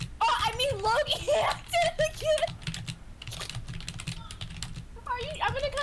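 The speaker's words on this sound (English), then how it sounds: "Hold on, I'm typing something into the chat." Rapid clicking keystrokes on a computer keyboard run in bursts, mostly beneath a young-sounding voice chatting, and are heard alone for a few seconds in the middle.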